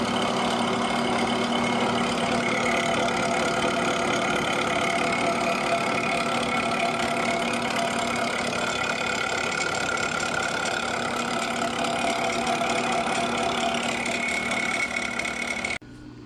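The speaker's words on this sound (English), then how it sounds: "I'm just gonna come in and mill this down so that we're completely flat." A milling machine cuts an intercooler V-mount bracket for an FC RX7 flat, a steady, humming mechanical drone with a constant whine running close and unbroken before cutting off right at the end.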